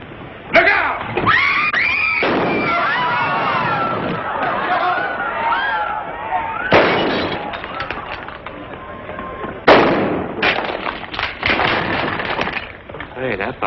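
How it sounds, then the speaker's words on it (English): Gunfire in a 1940 western film: two sharp, loud gunshots about nine seconds apart cut through shouting, screaming and busy crowd commotion. "Hey, that fella can shoot."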